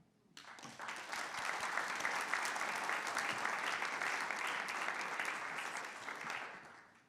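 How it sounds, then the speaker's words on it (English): An audience at a talks event on Canadian sovereignty breaks into sustained applause, a dense, even roar of clapping that swells in quickly, holds steady for several seconds, then tapers off. "a round of applause and welcome for Colette Watson, President, Rogers Sports"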